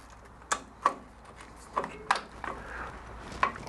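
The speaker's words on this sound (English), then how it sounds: "I'll undo these two banjo bolts at the top here" Sharp, sparse metallic clicks from a wrench loosening tight 12 mm banjo bolts on Yamaha R3 brake lines, five separate ticks spread irregularly over a few seconds against a quiet workshop background.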